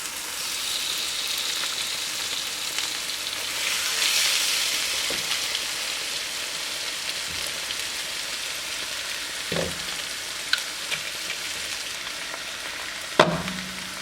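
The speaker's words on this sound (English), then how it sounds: "Now I'll get my chicken and add my chicken thighs to the pan." Chicken thighs sizzle and crackle steadily in a hot pan for a stir fry, with occasional clinks and scrapes of stirring.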